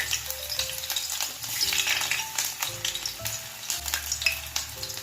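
Chopped garlic frying in a little oil for homemade chili oil, a steady dense sizzle with crackling bursts and occasional stirring, close and moderately loud throughout.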